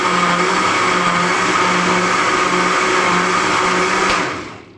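A mixer grinder briefly grinds raw mango chutney with salt, a loud, steady motor whir for about four seconds that then winds down and stops.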